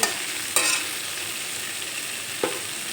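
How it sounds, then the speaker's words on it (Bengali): Papaya and potato cooking with spices in a pan over low to medium flame sizzle steadily, while a spatula stirs and scrapes through them in a few brief strokes, close and clear, with no speech. "আবার একটু নেড়ে চেড়ে নেব এইভাবে লো টু মিডিয়াম ফ্লেমে মশলার সঙ্গে পেঁপে আলু আমি নয় দশ মিনিটের মতো কষিয়ে নিয়েছি"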